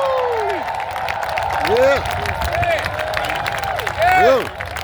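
Concert crowd at a Selma to Montgomery march anniversary event cheering and whooping around a speaker, steady broad roar with several louder swells of shouts, near and loud, with a voice audible over the noise.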